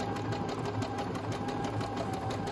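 A Brother Innovis 15 sewing machine stitches at a steady pace, giving a continuous close whirring hum with a fast, even needle rhythm throughout and no voices.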